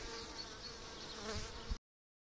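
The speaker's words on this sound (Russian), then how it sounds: "Буду пчелок закрывать, пусть облетываются." Honey bees fly around a beehive, giving a soft, steady buzzing drone that swells slightly before cutting off abruptly.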